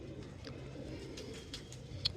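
A pigeon being held in the hand gives low cooing murmurs close by, with faint rustling and a brief higher chirp near the end.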